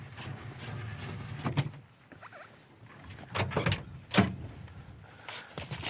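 A door on a 1978 Pontiac Firebird Formula opening up close, with a few mechanical clunks and latch clicks spread over several seconds and no talking.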